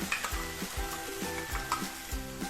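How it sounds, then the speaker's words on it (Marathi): Tomato puree, made from three tomatoes, sizzling in fried ginger-garlic paste for street-style pav bhaji, with a loud hiss and rhythmic spoon scrapes repeating roughly every half second; no voices. "आलं लसूण पेस्ट परतून झाली आहे आता तीन टोमॅटो त्याची प्युरी करून घेतली आहे ती संपूर्ण आपण ह्यात घालून घेऊ"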